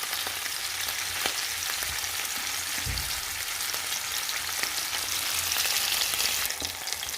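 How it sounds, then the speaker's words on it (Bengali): Hilsa fish fries in plenty of mustard oil, a steady, loud, continuous sizzle and crackle that fills the whole stretch with no talk, with a few brief clinks and stirring bumps. "ইলিশ মাছগুলো ভেজে নেই"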